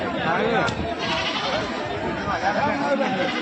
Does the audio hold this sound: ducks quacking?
no